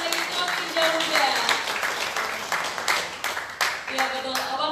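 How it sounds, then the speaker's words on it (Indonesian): Audience at a sharing session on South Sumatra ancient manuscripts applauding, a steady round of clapping from a room of people heard over a voice speaking through the sound system. "Tepuk tangan sekali lagi untuk yang Hijau Muda."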